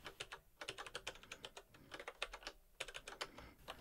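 Rapid, steady keystrokes on a computer keyboard while entering text into an Emacs Org mode buffer, close and quiet, with no voices.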